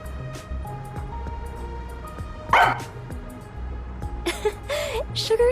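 A dog barks a few times in the video game Rain Code, short bright bursts near the middle and end of the clip over steady game music and ambience.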